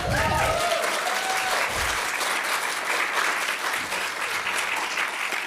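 An audience at an MIA artist talk applauds with steady, dense clapping from start to finish, loud and close.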